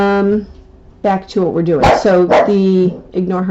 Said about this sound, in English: that's just my little pug barking at traffic